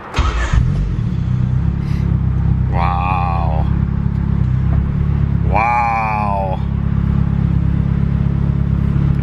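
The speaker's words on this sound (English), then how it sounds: "I'm gonna fire it up and see if it starts" A Honda car with newly installed decapped injectors cranks and fires up, then settles into a steady, loud idle with two brief revving rises, while a voice exclaims a couple of times.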